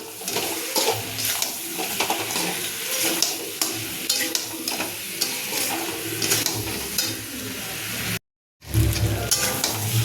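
A spice paste with beaten sour yogurt is stir-fried in a pan for a potato dum curry. It makes a loud, steady sizzle with scraping stirs, broken by a short moment of silence near the end, and no one speaks.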